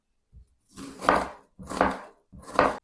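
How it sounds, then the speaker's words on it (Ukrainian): Three separate bursts of a knife dicing an onion on a board, close and distinct, with brief quiet gaps between them. "Цибулину наріжу кубиком."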